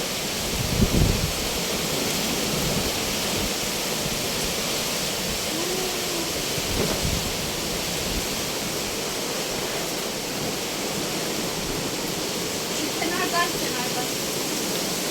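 Heavy rain pours in Denizli, a constant loud hiss of downpour and running water filling the whole scene, with a few brief voices talking faintly beneath it.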